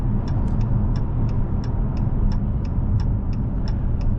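A 2023 Dodge Challenger GT cruises with a steady, muffled road and engine drone heard from inside the cabin, while a regular soft ticking, like a turn signal, repeats over it; no talk.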